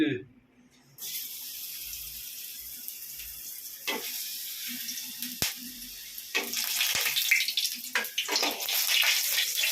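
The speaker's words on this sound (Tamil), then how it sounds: "நல்லா தெரிக்குது கடாயை தண்ணியில் இருந்ததுப்பா" Hot oil spitting and sizzling in a wet kadai while curry-leaf pickle cooks, bursts of crackling splatter growing denser and louder, with a voice in the background.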